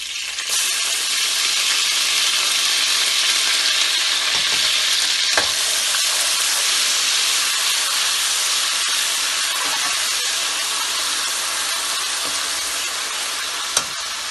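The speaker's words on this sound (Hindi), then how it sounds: "लहसुन अदरक का पेस्ट डालेंगे" Steady, loud sizzling of garlic ginger paste frying in hot oil, a continuous bright hiss with occasional small pops and a clink of stirring.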